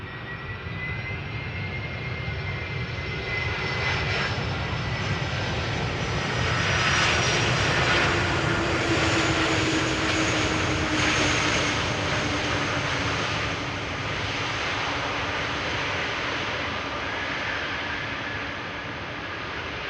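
A DHL jet aircraft arrives on runway 18R at Amsterdam Schiphol, a steady loud engine roar with whining tones that swells in the middle and holds broad and sustained throughout, no voices.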